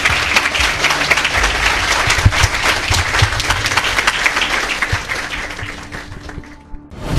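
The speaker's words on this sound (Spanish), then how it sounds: "Vamos a alabar a Cristo con nuestras palmas" Church congregation clapping hands in praise during a Christian broadcast: steady, loud, dense applause lasting several seconds before tapering off, with no speech over it.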